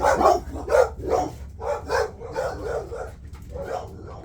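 A dog barks repeatedly in a steady series of about eight sharp woofs, fairly close, with a low hum underneath.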